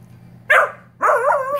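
A dog gives two barks at a baseball indoors, a short sharp yip followed after a pause by a longer, wavering bark-whine, close and loud over a low steady hum.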